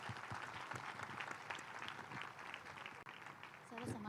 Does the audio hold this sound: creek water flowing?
no